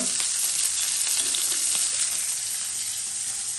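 Green chillies fry in a hot pan with a steady, bright, close sizzle, faint stirring scrapes underneath.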